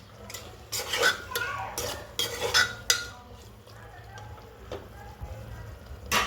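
Prawns being stirred into masala in a pressure cooker pot for biryani: irregular scraping and clinking of a spoon against metal, with faint speech-like murmur and a low hum underneath.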